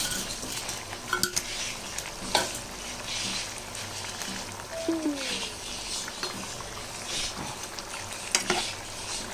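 Raw-banana kola urundai kuzhambu gravy bubbles and sizzles in a pan, a soft steady simmer under occasional clinks of a utensil stirring and knocking against the pan.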